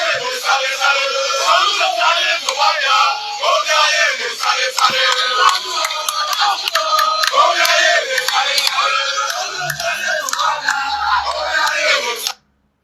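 A large crowd yells, shouts and cheers loudly and continuously for about twelve seconds, a dense roar of many voices that stops abruptly at the end.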